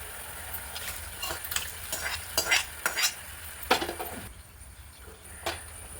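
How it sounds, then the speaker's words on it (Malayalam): Cooked onions in their gravy poured into a simmering onion curry and stirred, giving a run of scraping spoon strokes and soft splashes over a low bubbling background, close and moderately loud with irregular rhythm. "ഉള്ളി വേവിച്ച് വെച്ചേക്കുന്നത് ആ ഗ്രേവിയോട് കൂടി തന്നെ നമുക്ക് ഒഴിക്കാം"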